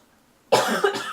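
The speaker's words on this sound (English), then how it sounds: "I'm still got that little bit of a cough" A single close cough burst from a person, loud and sudden after near silence, with a second smaller cough-like pulse following immediately, and no speech.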